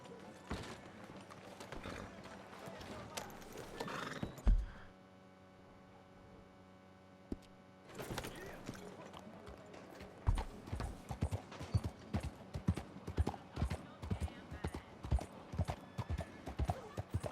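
Hooves clip-clop steadily on a hard surface, a horse approaching, with a brief neigh and a quiet pause midway before the trotting resumes louder, in Saint Denis in the video game Red Dead Redemption 2.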